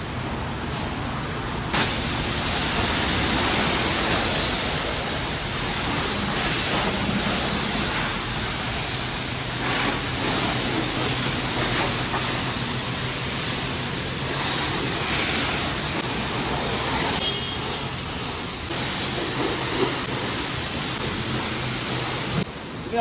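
A high-pressure rinse wand sprays water over a car at a self-service car wash, producing a steady, loud hiss and spatter that continues almost without pause.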